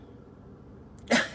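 A single sharp human sneeze bursts out near the end after a quiet stretch of room tone, loud and close in a church service setting.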